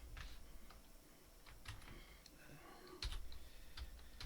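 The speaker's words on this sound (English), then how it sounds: "Triple click, make it a group." Light, close clicks of a computer mouse while drawing in SketchUp, a few small taps scattered through a quiet room, including a quick cluster of sharp clicks.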